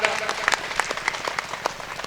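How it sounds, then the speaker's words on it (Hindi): A crowd applauds steadily throughout at a political rally in Kaushambi district, with dense, continuous clapping that sounds fairly close and full. "जोरदार ताली बजा के उनका स्वागत करा"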